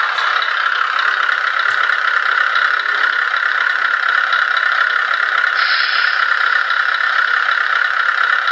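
A steady synthetic engine rumble with a buzzy, rattling tone runs continuously at constant loudness from a Beier MSM sound module in a Tamiya 1/14 Grand Hauler RC dump truck, playing through a speaker.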